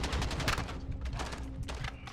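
Rapid bursts of gunfire in Call of Duty: Modern Warfare crack in quick succession, a dense fusillade of shots with brief gaps, sharp and loud.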